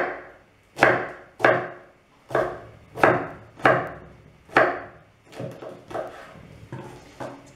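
Knife chopping artichoke on a cutting board, about ten sharp, evenly spaced chops, close and clear, with no talk.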